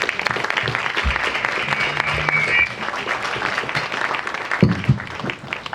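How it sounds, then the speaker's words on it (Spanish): Audience applause for a female doctor and anthropologist, introduced at a morning lecture, with steady clapping from a medium-sized crowd sustained for several seconds at moderate volume, with some room noise and a brief louder burst near the end. "Démosle un fuerte aplauso a la doctora"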